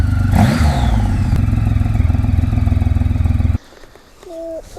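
A 2300cc Triumph Rocket III Classic Tour motorcycle idles close by with a deep, throbbing, rapid pulse, then cuts off abruptly, leaving quieter background sounds and a brief high tone.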